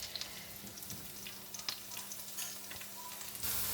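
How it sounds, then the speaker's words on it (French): Onions browning in oil in a pan sizzle quietly with soft popping and occasional stirring scrapes, and a brighter burst of hiss rises near the end. "Je vais rissoler les oignons, donc on va laisser rissoler"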